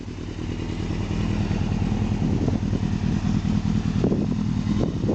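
A 2001 Yamaha YZF600R sport bike runs off choke, its moderately quiet exhaust putting out a steady, low, throbbing burble at close range with a faint mechanical clatter and no speech.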